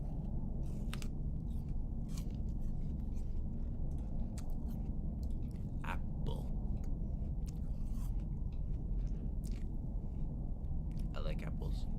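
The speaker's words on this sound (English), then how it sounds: "I take a bite out of my apple." Someone chewing an apple close to the microphone, a series of soft crunchy bites and chews over a steady low background rumble.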